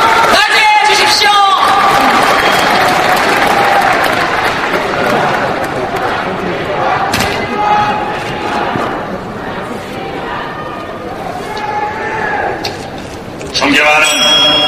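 Applause and cheering from a crowd of delegates greeting party leader candidate Park Jie-won at a party convention, loud sustained clapping with whoops and shouts that swell, dip and rise again.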